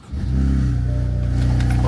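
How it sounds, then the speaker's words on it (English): BMW M4 F82 engine firing on a cold start, a quick crank then a steady loud idle drone close by. "Alright, let's do a cold start on this thing."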